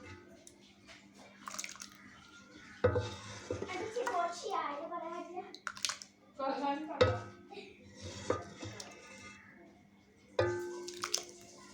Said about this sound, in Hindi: अब सूप को करते हैं हम डिश आउट। माशाल्लाह से इसमें डालेंगे अपने बॉल में